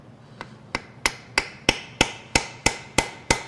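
Ten sharp metallic hammer blows on an old chisel driver against a 2023 Audi e-tron / Volkswagen ID.4 EV drive motor unit during teardown, evenly spaced and growing louder, each with a brief ringing decay, with no talking.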